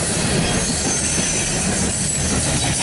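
A loaded CSX coal train rolls past close by, a loud, continuous roar of wheels and cars with steady metallic grinding and squeal throughout, no voices.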